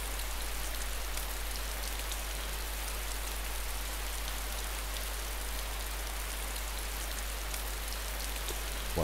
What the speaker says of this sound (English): While I sit here in the rain